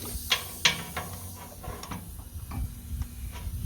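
A socket wrench ratcheting while blade sharpening work is underway, giving a few faint, sparse clicks over a steady background hiss.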